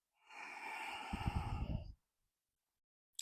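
A soft, breathy exhale during a cat-cow yoga breathing exercise, one long airy breath of under two seconds, close and quiet, with no talk over it.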